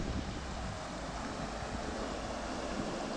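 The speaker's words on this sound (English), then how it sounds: "The sound of the water, it's nice." Water laps at the shore at a lakeside spot near Killorglin on the Ring of Kerry in Ireland, a steady broadband wash with some wind rumble, heard alone and fairly faint.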